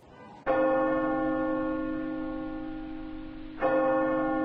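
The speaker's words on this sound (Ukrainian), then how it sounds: "Звук радіаційної небезпеки може звучати як бій у набат." A loud, sustained church bell tone rings with rich ringing overtones, fading slowly before a second strike renews it, sounded as an alarm warning of radiation danger.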